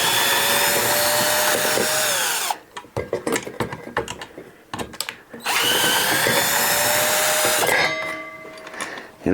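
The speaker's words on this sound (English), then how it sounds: "you can put these bits in a regular drill" A power drill drives screws while a ceiling light is being installed, whirring loudly in two long bursts of a few seconds each, separated by a quieter stretch of clattering handling noise.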